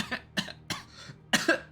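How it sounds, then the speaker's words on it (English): A person coughs several times in quick irregular bursts, close and fairly loud, with brief pauses between coughs and no talk. "Sometimes I just cough for no reason."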